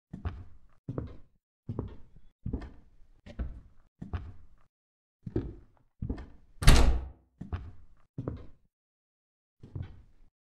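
Doors rattled and thudded one after another while being checked in a horror video game, a steady series of dull knocks and thunks with one sharper, louder bang near the end, no voices over them.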